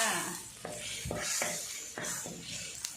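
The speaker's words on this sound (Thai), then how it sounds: "ใส่กะทิลงเลยนะคะ ต้องเหลือกะทิไว้ส่วนหนึ่งด้วยนะ เหลือเอาไว้โรยหน้านะคะ ผัดน้ำพริกแกงเผ็ดเลยค่ะ" Red curry paste stir-fried with coconut milk in a pan for Thai choo chee mackerel: a steady soft sizzle broken by repeated spatula scrapes and clacks against the pan, close by with no talking.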